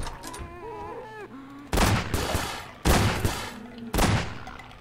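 Gunfire in the video game Estranged: three loud, close shotgun blasts about a second apart, each with a short echoing tail, with a voice muttering at the start before the first shot.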